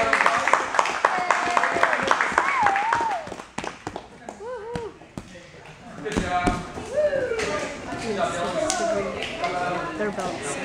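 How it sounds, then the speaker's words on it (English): Applause for students at a karate belt test, with sharp scattered claps at the start, then excited voices and children's chatter mixing with the clapping, up close in a busy room. "Everybody give them a big round of applause"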